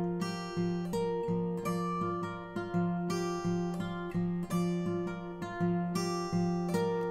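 Fingerpicked acoustic guitar plays the intro of a song, a steady flowing pattern of ringing arpeggiated notes over bass, played solo and close with no talking.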